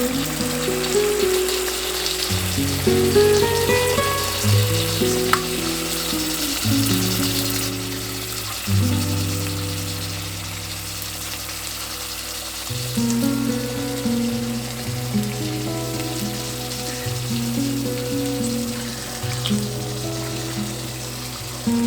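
Chicken livers frying in a hot pan give a steady, close sizzle throughout, heard over low tonal background music.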